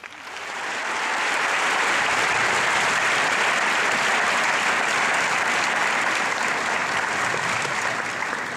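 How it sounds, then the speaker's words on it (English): Audience applause welcoming a speaker on stage swells quickly into dense, steady clapping that holds loud for several seconds, with no voices over it. "So please, let's give a warm welcome to Peter Twist."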